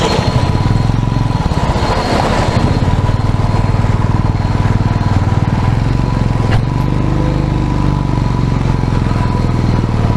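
A motorcycle climbs the slippery hairpin bends of the Agumbe Ghat road, its engine thrumming loud and close in a steady, throbbing drone, with a brief clatter partway through.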